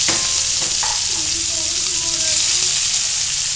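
Onions fry in a pan for papaitan while being stirred, a constant close sizzle with a few clanks and scrapes of the spoon, and brief faint voices in the background.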